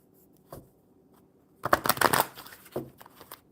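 A deck of cards is shuffled by hand at a table, one brief riffle followed by a burst of rapid flapping and a few soft taps as the deck is squared.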